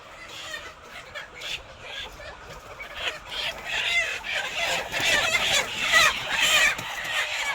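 A large flock of chickens clucks and squawks together in a dense, overlapping chorus, with a rooster crowing amid the steady racket.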